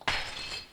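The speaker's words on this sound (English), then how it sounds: "I used a glass dropping sound as an error sound." Glass dropping and shattering, used as an Amiga error sound: a single sharp crash followed by a bright scattering ring of fragments that trails off, heard alone.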